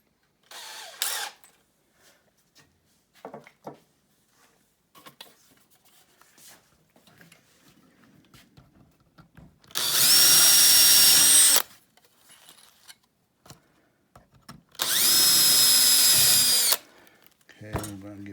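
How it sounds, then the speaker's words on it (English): A power drill enlarging holes to 1/8 inch in parts of a Freewing Cougar model jet during a turbine conversion, two loud sustained bursts of whining drilling close up, separated by quiet handling noises and light clicks. "now we're gonna take these holes here and we're gonna enlarge them"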